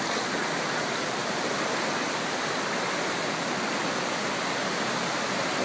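Backyard floodwater rushes through a fence line that is holding it back like a dam, making a steady, loud, broadband roar like a waterfall with no pauses and no voices.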